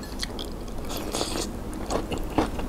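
Wakame seaweed salad dressed with sesame oil is chewed close to the mic, producing moist crunching and squelchy bites in uneven bursts over a low background hiss.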